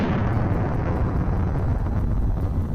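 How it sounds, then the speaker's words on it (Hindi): A nuclear bomb detonation heard as a continuous, dense, low roaring rumble that stays loud and steady throughout, like a massive blast still rolling on. "बम फट जाता है"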